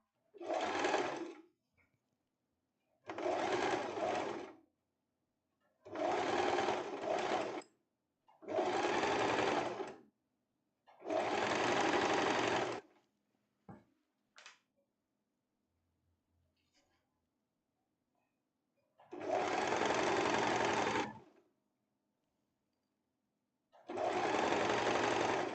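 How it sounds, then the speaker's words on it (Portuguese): Sewing machine stitching a hem on a crossover tank top, running in repeated bursts of about two seconds each separated by pauses, close and fairly loud with no talking. "A gente costura uma vez a bainha de lenço, depois costura a segunda vez aqui."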